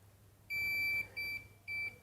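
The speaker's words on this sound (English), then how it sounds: "It will beep if it doesn't have contact." Three high electronic beeps from a device, the first longer, then two shorter ones in quick succession, clear over a quiet low hum.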